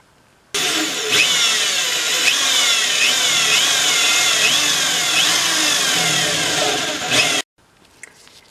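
A step drill bit whines steadily for several seconds cutting through thin plastic, its pitch rising and falling in repeated sweeps as the bit cuts through, then stops abruptly.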